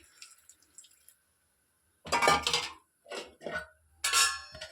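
Water poured from a vessel into a pot of jackfruit curry with curry leaves, heard as three short splashing bursts with metallic clinks, separated by near silence.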